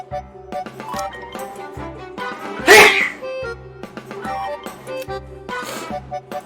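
A single loud sneeze bursts out midway over a busy soundtrack of music and effects from the game Goddess of Victory: Nikke, with a fainter second sneeze near the end.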